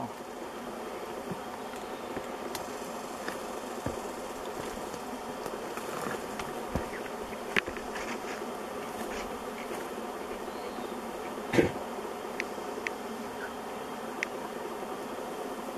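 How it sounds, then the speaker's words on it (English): A honey bee swarm in a white fir tree makes a dense, steady buzz that runs throughout, with clicks and knocks from nearby branch handling rising above the hum. "There's a lot of bees."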